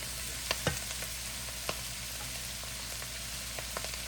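Onions and cabbage fry in a pan with a steady, even sizzle, broken by a few soft clicks of stirring, close and unaccompanied by speech.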